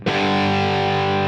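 A sustained, heavily distorted electric guitar chord through a Line 6 Helix amp model with bias at its default setting of 5 rings out loud and thick, held steadily with a fuzzy, saturated tone.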